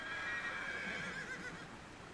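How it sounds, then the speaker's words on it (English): A horse whinnies on a wild-roaming herd's upland farm in Kyrgyzstan, one drawn-out, wavering neigh heard fairly close over steady outdoor wind noise. "This is farming Kyrgyz style, and Munabek's horses run wild up here"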